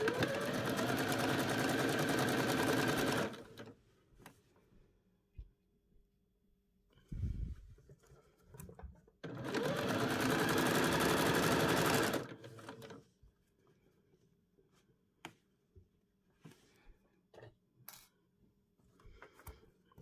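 Sewing machine stitching a bodice lining indoors in two long steady bursts of fast whirring, with quiet pauses, small clicks and handling noises between them.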